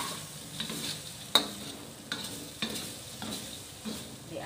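Tempeh frying in a pan for a sweet and sour dish while being stirred, with soft sizzling under repeated scraping clinks of a spatula against the pan, close by and without talk.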